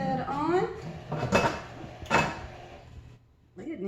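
Metal clatter and scraping of a heavy lid being set onto an All-American pressure canner during mushroom canning, a few distinct clanks and rattles close by with brief talk around them.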